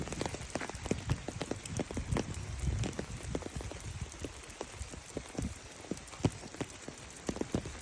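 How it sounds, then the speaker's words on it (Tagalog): Rain falling on a rainy day, scattered drops tapping irregularly on a surface close by, quiet and steady with no voices. "Ulan guys."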